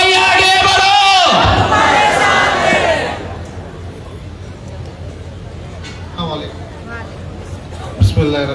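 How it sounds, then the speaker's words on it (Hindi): A large crowd at a political election rally shouts the Takbir slogan together in a loud, roaring call that dies away into murmuring chatter and distant noise. "एक बार जोरदार नारा लगाइए, नारे तकबीर।"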